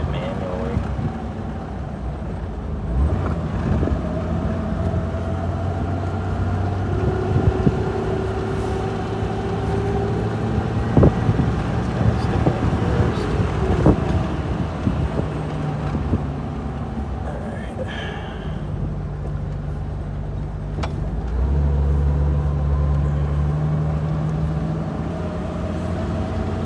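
2000 Jeep Wrangler engine droning while driving, held in first gear with rising and falling pitch as it is shifted, recorded from inside with someone talking over the engine throughout.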